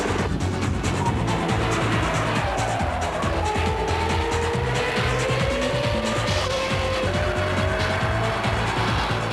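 A Ferrari 550 Maranello drives hard on the Spa race circuit toward the Eau Rouge chicane, its engine roaring loudly and rising in pitch through the gears, with tire noise and a close, continuous onboard feel.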